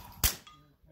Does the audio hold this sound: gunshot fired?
yes